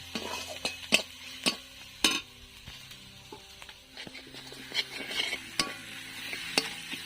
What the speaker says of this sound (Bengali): এবার আমি দিয়ে দেবো বাটা রসুনটা, আদা রসুনটা। দিয়ে মশলাকে এভাবে আমি কষে নেব।